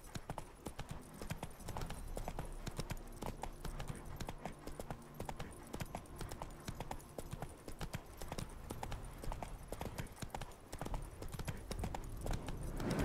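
Geralt's horse Roach in The Witcher 3 clip-clops along steadily, rhythmic hoofbeats continuing for about thirteen seconds at a close, even level. Faint game ambience sits underneath, and a voice briefly talks over part of it.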